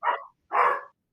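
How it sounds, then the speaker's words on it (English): Two loud, close dog barks in quick succession, separated by a short pause, with silence around them. "The dog barking again."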